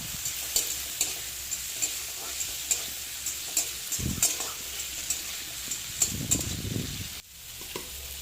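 Onions and tomatoes fry in a pan with a steady sizzle, broken by repeated close scrapes and clacks of a spatula stirring, plus a couple of heavier thuds near the end.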